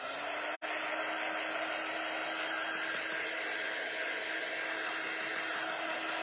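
A handheld craft heat dryer blowing over paint or paste on a chalk couture project, a steady close whooshing hum that runs on without pause apart from one brief drop near the start.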